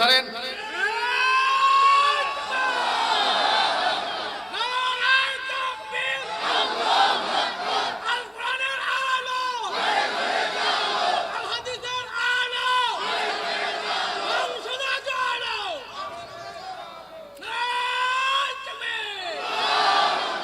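Crowd at an outdoor Bangladeshi religious gathering shouting the takbir chant in repeated loud call-and-response bursts, a lead voice and many voices swelling and dropping across the stretch.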